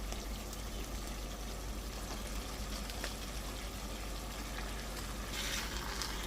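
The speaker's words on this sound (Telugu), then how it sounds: "ఇప్పుడు ఇందులో చికెన్, కడిగి పెట్టుకున్న చికెన్ వేసుకోవాలి." Raw washed chicken is frying in hot oil for a spicy chicken fry, giving a steady, dense sizzle that holds even and close for the whole stretch, with a slight swell near the end and no talking.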